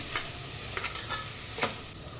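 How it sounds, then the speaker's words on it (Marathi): Thinly sliced onion frying in hot oil with salt for a mutton curry, a steady soft sizzle broken by a few light stirring scrapes, close and alone. "तेलात टाकूया भाजण्यासाठी म्हणजे पातळ कांदा कापल्यामुळे लवकर भाजला जातो"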